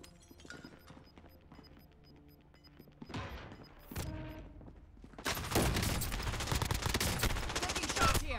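Gunfire in Call of Duty Warzone Plunder: scattered single shots and clatter early on, then a dense, loud burst of sustained automatic fire filling the second half.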